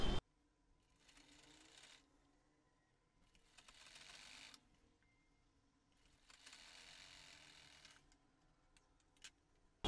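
A sewing machine stitching gota patti lace onto a garment sleeve runs in three short bursts separated by quiet pauses, close but faint.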